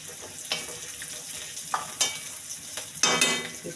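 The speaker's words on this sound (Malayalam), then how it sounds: "ആ കൂടെ നമുക്ക് കുറച്ച് കശുവണ്ടിയും ഉണക്കമുന്തിരിങ്ങ ഇട്ട് കൊടുക്കാം" Cashews and raisins frying in a pan, a steady soft sizzle broken by several sharp stirring scrapes and clatters, close by, with no voices.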